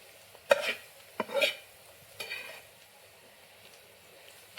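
A spatula scrapes and tosses ghatpat wild greens with onion and oil in a pan, giving three or four distinct stirring strokes over a soft, quiet sizzle.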